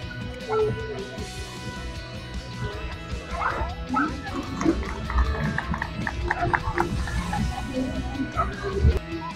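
Police drug-detection dogs barking and yipping during a demonstration, with loud repeated barks, whimpers and yelps close by while people talk in the background.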